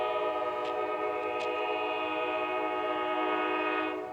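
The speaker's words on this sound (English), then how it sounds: "before I was rudely interrupted by the local train movements" A passing train sounds a long, loud, sustained horn blast, steady throughout, with no speech.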